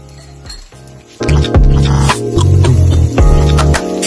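Chili crab sauce thickened with cornstarch water is stirred in a pan, with a utensil clinking against the metal and a loud sizzling bubble underneath that swells after the first second.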